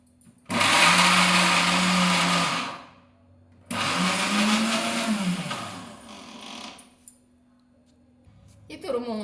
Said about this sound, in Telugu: ఇది కోరు మిక్సీ పట్టేస్తా